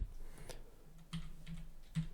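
A few quiet, close keystrokes tap out on a computer keyboard, scattered clicks spread unevenly across a short stretch with a faint background hum.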